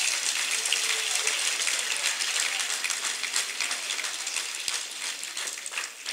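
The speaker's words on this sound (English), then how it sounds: "So please give them a round of applause now." Audience applause at a school speakers bureau event after a county sheriff guest speaker is introduced, a steady dense wash of clapping holding at even loudness for several seconds.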